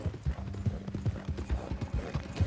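Horse hooves clip-clop in Red Dead Redemption 2 as a rider travels with a captive tied on horseback, a steady close trotting rhythm of light knocks with faint tack clatter.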